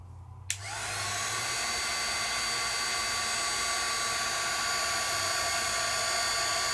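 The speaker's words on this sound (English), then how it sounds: "Let's bring over my heat tool, and this is the best tool ever for shrinky dinks." A craft heat tool on low heat is aimed at shrink plastic: a click, then a close, steady blowing whoosh with a high whine that runs unbroken to the end.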